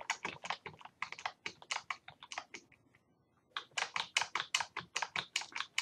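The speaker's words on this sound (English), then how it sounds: "Taking the easy way out on typing this stuff in." Rapid bursts of typing on a computer keyboard, close and crisp, with a brief pause midway before the clatter of keystrokes resumes at a steady pace.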